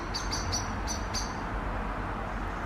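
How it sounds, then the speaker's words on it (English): Birds chirp in a garden at dusk as daylight fades, a few short high calls in quick succession early on, fairly faint over a steady low rumble of distant traffic. "You can hear the birds."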